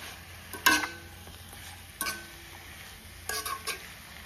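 Chicken mixture dry-frying in a pan with a little oil: a faint, low background sizzle, broken by a few sharp scrapes and clinks of a spoon stirring against the pan.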